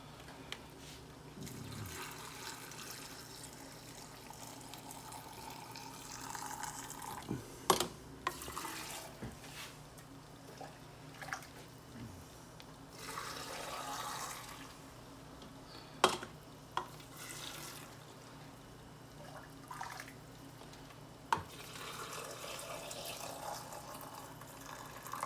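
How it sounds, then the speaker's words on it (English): Water pours into glass canning jars packed with fresh organic green beans, a steady quiet splashing stream with occasional clinks of glass, while a pressure canner warms nearby in a home kitchen. "I'm just gonna put a bunch of water in"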